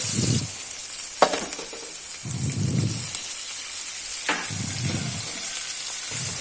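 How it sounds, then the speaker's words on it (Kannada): Onion, green chili and tomato fry in a pan for a Karnataka-style vegetable palya, giving a steady sizzle with swelling bursts of louder frying and a couple of sharp clicks from stirring, close by and with no talking. "ಈರುಳ್ಳಿ ಮತ್ತು ಹಸಿಮೆಣಸಿನಕಾಯಿ ಫ್ರೈ ಆದಮೇಲೆ ಒಂದು ಟೊಮೆಟೊ ಹಾಕ್ತಾಯಿದ್ದೀನಿ"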